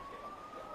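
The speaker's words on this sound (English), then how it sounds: "Siren has sounded in the background." A siren wails steadily in the background at a senior men's rugby championship match, a faint sustained tone over crowd and field ambience.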